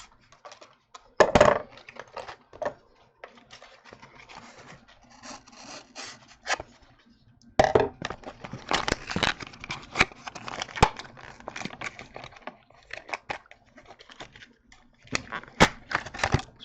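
Plastic Brinks padlock packaging is cut and torn open up close, with irregular bursts of crinkling, scraping and snipping separated by quieter pauses.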